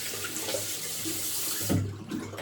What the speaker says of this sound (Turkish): Kavim tıraş aletini güzel bir şöyle suyun altından geçiriyoruz